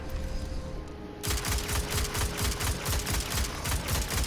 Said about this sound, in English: this is the scout rifle from Deepstone Crypt